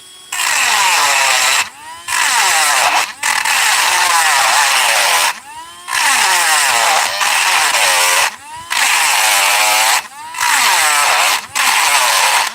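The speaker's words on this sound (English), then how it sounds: "I'm really pushing the limits" A Dremel rotary tool whines loudly in repeated bursts, its pitch rising and dipping under load as it cuts, with brief pauses between passes.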